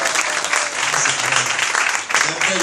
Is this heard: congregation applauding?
yes